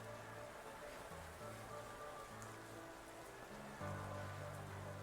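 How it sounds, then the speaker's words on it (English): Steady rain falls from Politoed's Drizzle weather effect in a Pokemon video game, a constant soft hiss of raindrops over game music tones throughout. "that Drizzle will take effect again from Politoed"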